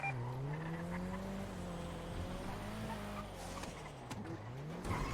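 Car in a GTA roleplay game driving with engine drone rising and falling and a sustained tire skid, a continuous near sound with no voices.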